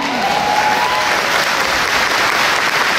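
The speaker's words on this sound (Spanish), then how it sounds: "Si ese aplauso era para María" A church congregation applauds in a steady, dense wash of clapping, loud and close, with a brief raised voice at the start and the clapping sustained evenly throughout.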